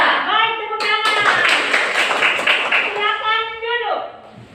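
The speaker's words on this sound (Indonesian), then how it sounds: "Baik, tepuk tangan." Junior high schoolchildren in a classroom clap their hands together in a brief burst of quick claps, mixed with the children's voices chanting in unison before and after.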